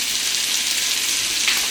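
Pepper and chorizo sizzling in a pot for a one-pot spaghetti, a close, steady frying hiss with a faint stirring scrape near the end and no talk.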